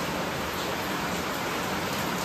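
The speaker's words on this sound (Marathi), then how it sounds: "पाऊस आहे खूप, त्यामुळे मोबाईल भिजतोय." Heavy monsoon rain pours down outdoors near a well, a dense, loud, unbroken hiss close to the microphone with no voices.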